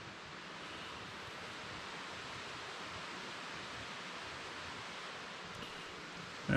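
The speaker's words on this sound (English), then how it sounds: "there's a river somewhere around here" Steady, faint rushing of a river somewhere out of sight near a forest campsite in the Green Mountain National Forest at night, a broad even wash of sound with no voices.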